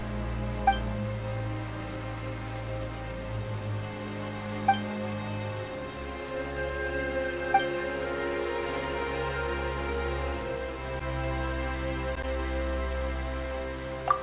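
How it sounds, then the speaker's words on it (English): Steady rain falls in the fantasy game Genshin Impact, a continuous patter on surfaces beneath low ambient game music, with a few soft chimes and no talking. "Why is it raining all of a sudden?"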